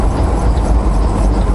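An SUV passing on a road while chains clunk on a slow vehicle, heard as a steady, loud low-frequency road roar with no clear peak, continuous throughout.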